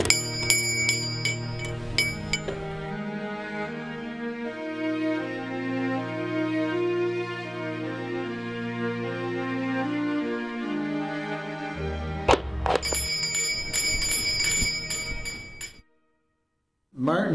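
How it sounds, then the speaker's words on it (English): A call bell newly installed at the far end of a hall rings with bright metallic strikes at the start and again near the end, its tone ringing on under a long sustained chime before a sudden stop. "This morning we've installed the bell at the other end of the hall."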